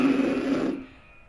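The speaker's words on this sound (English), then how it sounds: "Here are some bad examples of some buzzing because my corners are not firm." Weak, fuzzy buzz on a horn mouthpiece played with slack lip corners, a single sustained tone lasting under a second before fading, heard alone.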